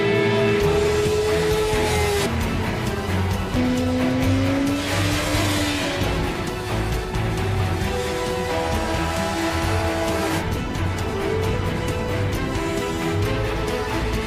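Yamaha sport bike accelerating hard out of corners, its engine note rising and shifting pitch through repeated gear changes, loud and close throughout with a continuous roar.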